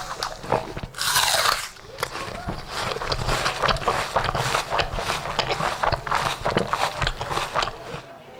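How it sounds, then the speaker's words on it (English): Crunchy apple being bitten and chewed near the microphone, an opening crisp bite followed by about seven seconds of dense, repeated crunching and wet chewing, with no talking. "What does it sound like if you bite into a crunchy apple?"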